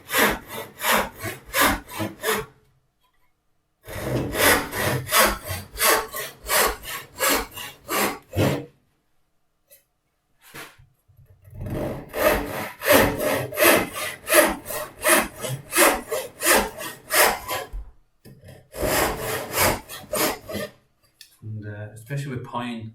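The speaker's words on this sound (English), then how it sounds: "So we take our tenon saw again, cutting on the waist side." Hand tenon saw cutting through pine, a run of steady rhythmic rasping strokes in four bursts separated by short pauses, close and fairly loud with no talk.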